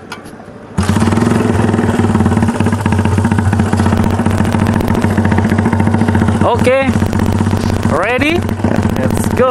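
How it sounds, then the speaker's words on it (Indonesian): A Yamaha Scorpio bobber motorcycle starts up at night and idles loudly up close with a steady, thumping rumble, rising in two brief throttle revs near the end. "Test ride motor malam-malam."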